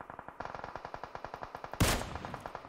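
Rapid automatic gunfire in PUBG Mobile on the Erangel map, a fast even stream of close, sharp shots, interrupted by one louder burst midway, with no talk.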